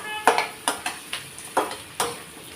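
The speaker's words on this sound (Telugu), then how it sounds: "కంద ముక్కల్ని ఇందులో వేసేసుకుంటున్నాను మొత్తం ఇలా కొంచెం ఈ ముక్కలు కూడా కొద్దిగా ఫ్రై అవ్వనిద్దాం" Yam pieces fry in a pan while being stirred, sharp spatula scrapes and clacks against the pan at an irregular pace over a faint sizzle.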